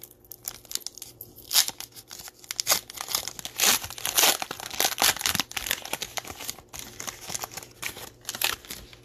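A foil pack of Mosaic football trading cards is torn open close up, giving bursts of crinkling and ripping foil with scattered crackles and rustling handling noises, and no voice over it.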